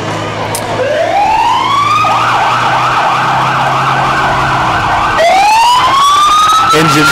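Fire engine sirens blare loudly in a summer festival parade in Argos, rising wails sweeping upward and holding steady, then a second siren winds up near the end, with no talking over them.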